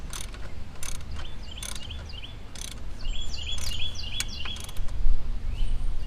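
A ratchet clicks in several quick bursts while tightening a pulley bolt on a BMW E39 engine, with a steady mechanical hum underneath. The bursts grow busier and louder toward the end.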